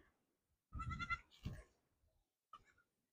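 Goats on a windy farm bleat close by, with two quick wavering cries followed by a short faint bleat after a pause.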